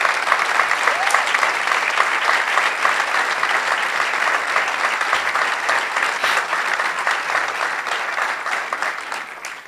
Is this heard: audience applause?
yes